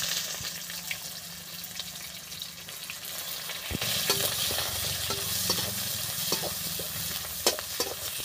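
Chopped onion drops into hot oil for chira ghonto, a flattened-rice dish made with rohu fish. Brief stirring comes first, then a loud, close sizzle bursts in and keeps crackling steadily.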